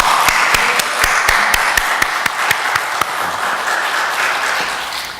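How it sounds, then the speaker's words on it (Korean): A church congregation applauds during a Sunday service, a loud and full burst of clapping with sharp individual claps standing out. The applause stays dense for about five seconds, then begins to fade. "저는 영광의 박수를 우리 같이 한번 드렸으면 좋겠습니다"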